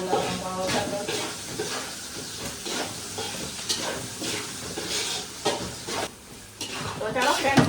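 Pulao tempering sizzles and hisses loudly in a pan while being stirred, a continuous frying crackle with scraping stir strokes.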